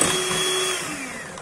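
Electric hand mixer whirring as it beats egg yolks into ladyfinger batter, a steady close motor whine whose pitch slides downward as the load changes, running alone for a second and a half.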